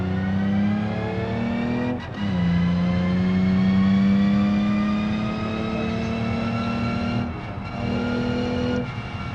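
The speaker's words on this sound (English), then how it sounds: "Let's dump the clutch out first." A car in the BeamNG video game with a loud, revving engine drops in pitch at each gear shift, the engine sustained and close throughout.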